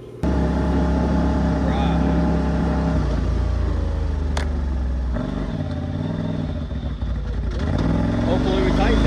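A Polaris RZR side-by-side with upgraded clutch runs steadily on a test drive, its engine droning loud and continuous with low rumble and some revving toward the end; a voice speaks briefly over it.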